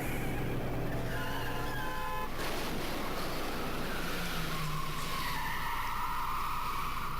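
Car skidding into oncoming traffic in the video game Danganronpa: loud tire squeals and skid screeches over a roaring engine, with a harsh rising squeal across the second half.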